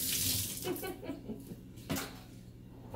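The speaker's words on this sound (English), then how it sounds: "run this through a screen to make sure that I catch any big floaters" Paint is poured through a small tea strainer screen to catch lumps, a faint liquid trickle and splatter with a few soft clinks of the strainer, close and quiet.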